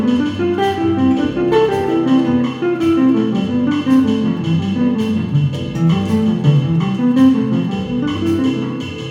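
Jazz guitar phrase played over a modal workout, starting after the first beat with the opening note left out, leaving a flowing run of clear, close picked notes with a steady melodic rhythm and no talk.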